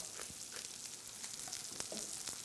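Onions sautéing in a pan with salt and black pepper, a steady low sizzle with soft crackles and a few small pops throughout, fairly faint and close.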